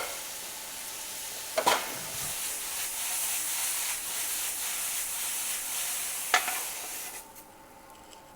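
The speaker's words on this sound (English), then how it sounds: "the onions are starting to brown up nicely now" Onions and mushrooms frying in a pan for a beef and mushroom madras, a steady close sizzle and hiss with a couple of sharp stirring scrapes, fading near the end.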